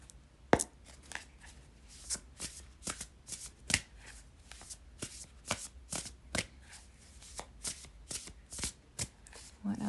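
Oracle cards being shuffled for a tarot reading, a steady run of sharp riffling snaps and slaps repeating close by with short gaps, no talking.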